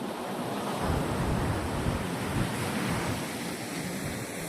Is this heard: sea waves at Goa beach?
yes